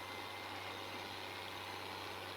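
A labouring tractor engine in Farming Simulator 19, a steady low drone with constant hum and broad mechanical noise, unchanging and fairly faint over the whole stretch.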